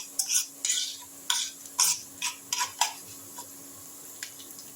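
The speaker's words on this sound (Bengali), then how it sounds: "আমি একটু সর্ষের তেলের মধ্যে গোবিন্দভোগ চালটাকে লাল লাল করে ভেজে নিচ্ছি" Gobindobhog rice being fried in mustard oil, stirred in the pan with a series of separate dry scraping, rattling strokes, fairly close and moderately loud, with a faint background sizzle and no voices.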